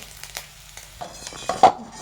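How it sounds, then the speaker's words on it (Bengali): Shrimp sizzle and crackle as they fry in hot oil, with occasional stirring scrapes and a clink of a utensil; no voices. "চিংড়ি মাছগুলো মোটামুটি ভাজা হয়ে গেছে"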